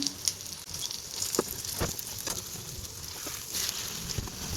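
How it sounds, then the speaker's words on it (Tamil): Vanjaram fish frying in oil in a pan on a stove at low flame, a steady close sizzle with scattered crackles and small pops, no talk. "ஸ்டவ்வை லோ ஃப்ளேமில் வச்சு நல்லா பொறிச்சு எடுத்துக்கலாம்"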